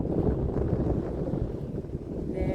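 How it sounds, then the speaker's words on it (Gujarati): Strong wind sweeps across an open farm field, buffeting the microphone in a low, rough, continuous rumble that rises and falls. "પવન છે બહુ, પવનનો અવાજ પણ બહુ આવતો છે આમાં"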